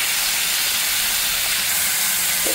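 Curry masala being stirred in a pan, a steady loud sizzling hiss running throughout with a faint scrape near the end and no talk.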